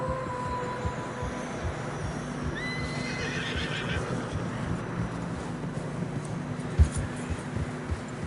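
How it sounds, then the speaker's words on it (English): Horses whinny and neigh while wading through deep fresh snow in the Red Dead Redemption 2 video game, with muffled hoof clops and a steady background rumble; several drawn-out whinnies rise and fall, fairly close. "Horses are struggling."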